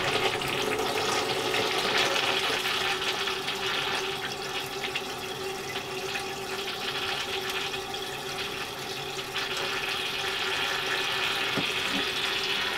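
An RV toilet flushes with a steady, loud rush of water that runs without a break for the whole stretch, close to the listener and with no talk over it.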